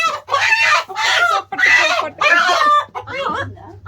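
Country chickens cluck and squawk in a series of loud, close bursts with short gaps between them, with a low hum running underneath.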